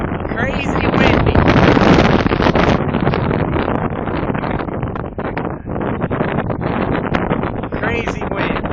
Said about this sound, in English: it is very, very, very, very windy out here today